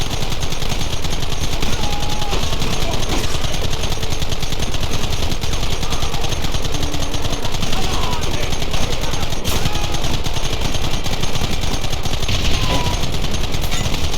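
Heavy gunfire fills a shootout in the video game Red Dead Redemption, dense overlapping rifle and pistol shots cracking continuously and loudly with no break.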